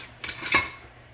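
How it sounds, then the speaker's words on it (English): A spoon stirs a cinnamon and vanilla mixture in a pot, giving two quick metallic clinks and scrapes against the pot's side, close and fairly soft. "Now, we're just going to give that a little stir"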